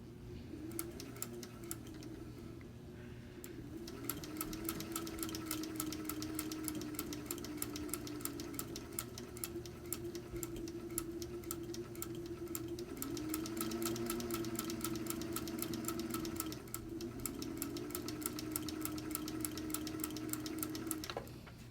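A Singer sewing machine fitted with a foot hemmer stitches lace, a fast steady rattling run of needle strokes with a low motor hum, pausing briefly and then resuming, close and fairly quiet.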